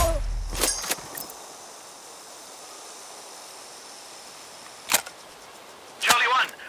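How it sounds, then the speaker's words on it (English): Sharp gunshot cracks from the video game Sniper Ghost Warrior Contracts 2: one distinct shot near the start, another brief crack around midway, and a louder burst near the end, separated by quiet ambient hiss. "I'm listening to gunshots here!"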